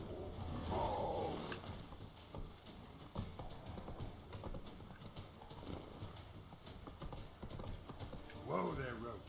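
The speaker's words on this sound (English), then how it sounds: "Whoa there, Roach." Horse hooves clip-clop steadily in The Witcher 3, a mid-level rhythmic trot under ambient game sound, with a short vocal burst near the start and end.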